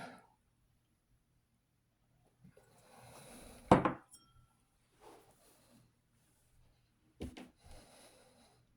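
Soft, close clinks of a glass during a tasting of Four Roses Small Batch bourbon, with a few sharp chinks separated by quiet pauses and faint handling noise in a still room.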